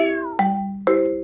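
A cat meows twice near a baby, each a clear, drawn-out, close call with a slightly falling tone, the second starting partway through.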